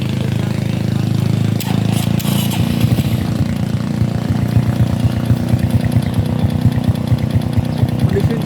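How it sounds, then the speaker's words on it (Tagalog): A motorcycle engine runs steadily throughout a roadside condition check, its loud, close idle thrumming with rapid regular pulses and a brief revving swell near the start, and no talk over it. "i-check natin ngayon yung engine kung ito ba ay kondisyon."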